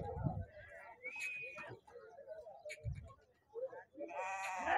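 Young rams bleat in short calls at a busy Siddipet livestock market, a few rising over steady nearby chatter and crowd noise.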